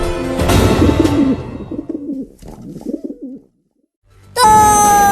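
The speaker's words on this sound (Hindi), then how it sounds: "वो रहा कमीना कबूतर।" A pigeon coos in a few soft throaty phrases, near and clear, set between louder bursts of background noise at the start and end.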